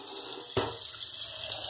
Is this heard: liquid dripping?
yes